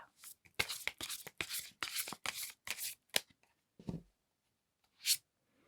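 Tarot cards being shuffled by hand in a series of quick riffling bursts, close and crisp, with a few softer card taps and a brief final flick after a pause.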